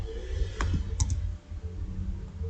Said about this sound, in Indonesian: Kemudian kita enter lagi.